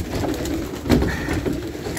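Homing pigeons coo softly while feeding on barley grain, a low murmuring burble that runs steadily throughout, close by, with a slightly louder swell near the middle and no talking.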